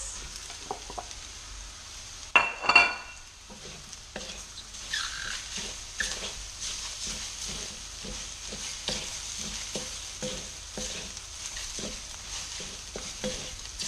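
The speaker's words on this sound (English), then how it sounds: "what I'm doing now is I'm heating through the rice" Egg fried rice heats in a pan with a light sizzle and repeated scraping stirs, one sharper clatter early on followed by soft rhythmic scrapes and patters, close and moderately quiet.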